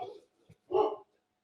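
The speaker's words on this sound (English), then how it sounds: "Sorry, that was my dog." A pet dog barks at home, giving a short sound and then a louder, fuller bark a moment later, fairly close to the microphone.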